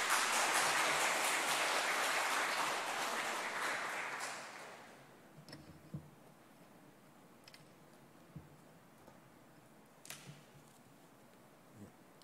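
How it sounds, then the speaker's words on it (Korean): A church congregation at a Sunday worship service claps to welcome a pastor, a dense, fairly loud round of applause that dies down after about four seconds, leaving a quiet room with a few scattered knocks. "우리 목사님 나오실 때 박수로 환영하도록 하겠습니다"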